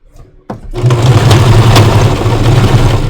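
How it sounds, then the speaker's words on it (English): A sewing machine starts up after a quiet moment and runs steadily with a loud, continuous mechanical whir and rapid stitching rhythm. "Good little sewing machine."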